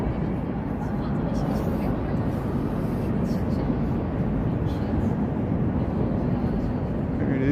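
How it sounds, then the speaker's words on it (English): Airplanes and helicopters flying over Washington DC near the Lincoln and Jefferson Memorials, a continuous broad roar of aircraft noise filling the air outdoors, steady and moderately loud, with faint voices of people around. "we got all this noise of airplanes and helicopters"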